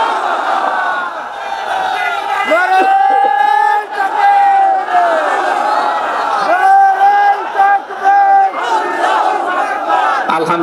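A large crowd at a Bangladeshi Islamic sermon gathering roars a chanted Allahu Akbar in unison answering a takbir call, loud and sustained with repeated rising shouts across the whole stretch.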